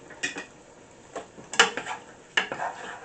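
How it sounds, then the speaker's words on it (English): Chopped chili vegetables, celery among them, get stirred in a pot with a utensil, giving a few scattered clanks and scraping knocks against the metal rim, close and moderately loud, with quiet gaps between strokes. "Let me stir that up a little bit."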